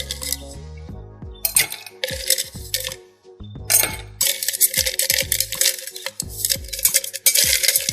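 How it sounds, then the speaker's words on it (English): Ice cubes dropping into a cup in a series of sharp, bright clinks and clatters, several pieces landing in quick bursts with brief pauses between, close and loud, no talking. "So I'm going to fill her up with ice."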